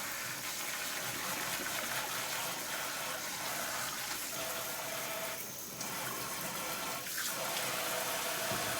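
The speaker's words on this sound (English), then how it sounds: "let me rinse this off" Kitchen tap water runs steadily and splashes as something is rinsed beneath it, a continuous close gush with no voices.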